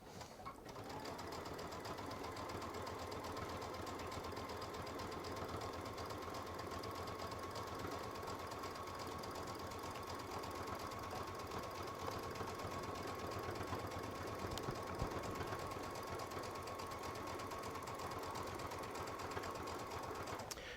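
A Baby Lock sewing machine fitted with a leather roller foot runs a zigzag quilting stitch at default width, giving a steady, even mechanical whir and rapid needle chatter that carries without pause, close and unaccompanied by talk.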